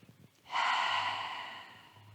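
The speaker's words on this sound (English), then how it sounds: "Take a breath." A single slow, audible breath drawn in during a quiet chair-based yoga session, a soft airy rush that swells suddenly and then fades gradually, close and alone.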